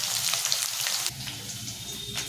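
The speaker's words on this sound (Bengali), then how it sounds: "সম্পূর্ণ গরম দিয়ে দিই অনেকে কালো জিরে দাও আমি পাঁচ ফোড়ন দিয়ে করি" Panch phoron whole spices crackle and sizzle in hot oil in a pan, a close, steady frying hiss with small pops, with no voices.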